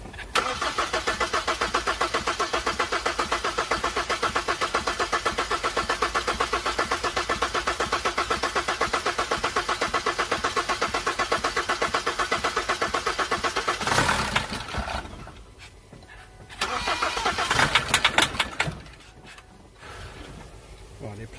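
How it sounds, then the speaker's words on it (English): A Ssangyong Musso diesel engine, its fuel system just bled after running totally dry, cranks steadily and loudly for about fourteen seconds, then stops, followed by a brief second burst of cranking or catching. "let's see if she'll suck it through to the pump now and fire up"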